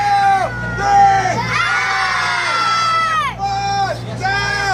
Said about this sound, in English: let's yell ARG as loud as we can, just to get prepared